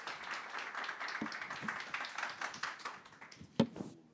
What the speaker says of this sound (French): On peut applaudir Adam et les intervenants.